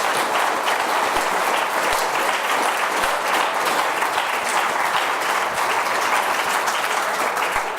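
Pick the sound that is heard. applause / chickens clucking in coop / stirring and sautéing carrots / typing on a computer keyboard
applause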